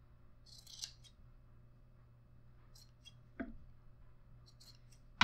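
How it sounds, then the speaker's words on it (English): Scissors trim excess yarn on a small craft gnome, making a few quiet, crisp snips spaced apart in an otherwise still room. "We're going to trim off the excess."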